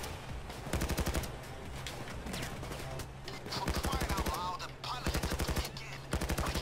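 Rapid automatic gunfire in a Payday 2 heist, bursts of closely spaced shots repeating loudly through the stretch with brief pauses between volleys, a game soundtrack and effects underneath.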